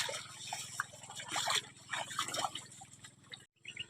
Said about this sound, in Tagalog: Ayun yung tubig natin. Bumababa rin papunta sa bana.